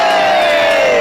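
A movie crowd cheers and whoops loudly for a brief moment, a dense roar of many voices with a strong rising tone running through it.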